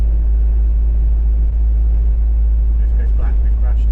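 A 7.5-ton box truck's engine idles with a steady, heavy low rumble that holds throughout, and a few faint voices and small knocks come up near the end.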